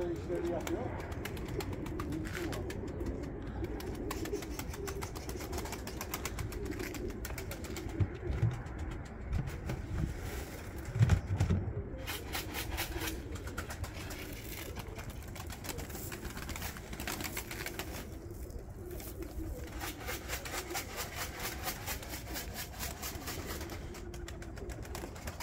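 Pigeons sold as Turkish tumbler-type play birds coo softly in a loft, with flapping wing bursts in places, under steady ambient noise and someone talking throughout.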